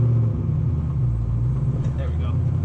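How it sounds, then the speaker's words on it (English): Loud idle of a V8 truck engine with a twin-disc clutch, a steady low rumble filling the clip with slight surges, while a person talks over it. "it gets a lot of stares, because it's a loud truck"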